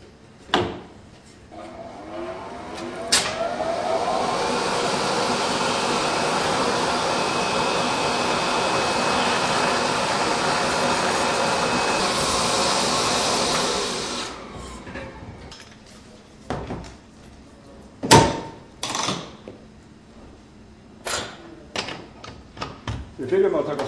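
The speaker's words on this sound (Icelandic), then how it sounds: "ég ætla að fara að snúa þess að vélinni og ég ætla að tæma tækið inn í vélina." A machine empties a fire extinguisher with a loud, steady rushing blast that lasts about twelve seconds and then cuts off. Clanks and knocks of handling follow, and a voice talks in the background.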